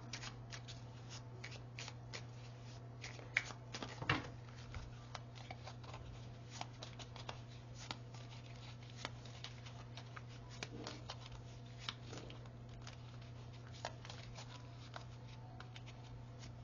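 Tarot cards being shuffled by hand, a soft close riffle of quick papery flicks and taps over a faint steady hum, with a few louder slaps as the deck is handled.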